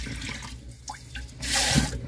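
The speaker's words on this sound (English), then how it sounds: "Now you wanna wash the rice to make sure there's no like bad stuff" Rice is rinsed in water, soft sloshing and swishing close by, ending in a louder splashing pour, with no talk.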